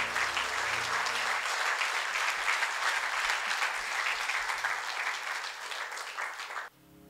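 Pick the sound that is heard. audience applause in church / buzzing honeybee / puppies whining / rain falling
audience applause in church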